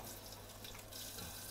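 A tap runs steadily into a sink for rinsing after brushing teeth, a continuous close splashing of water with no voices.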